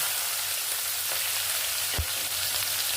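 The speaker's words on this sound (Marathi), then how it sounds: "शिमला मिरचीला जास्त उग्र वास असतो त्यामुळे मी तेलात तळून घेणार आहे" Bell pepper frying in hot oil with mustard seed, cumin and asafoetida for pav bhaji, a steady close sizzle with a single soft knock partway through.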